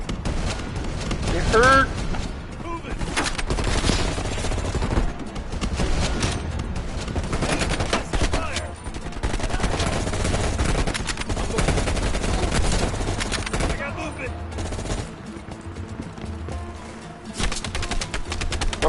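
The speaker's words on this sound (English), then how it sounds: "Stop shooting me!" Dense gunfire in Call of Duty Black Ops Cold War, loud sustained bursts of automatic weapons and rapid shots nearly throughout, with brief shouted speech over the barrage.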